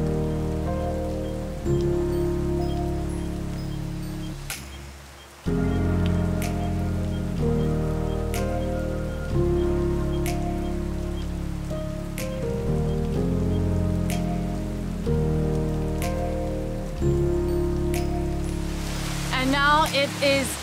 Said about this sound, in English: Now it is pouring. It promised it was gonna rain, and it is raining.